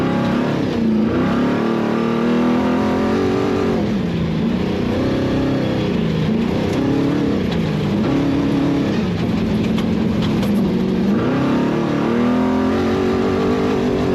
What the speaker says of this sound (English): you hear him just kind of gagging the throttle on and off through this section